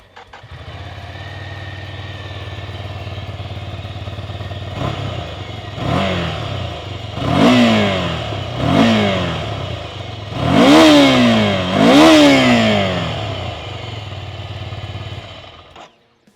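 A Ducati Scrambler 2G motorcycle with a standard Termignoni exhaust idles with a low steady rumble, then is revved up sharply several times in quick blips, the last two the loudest, before settling back to idle.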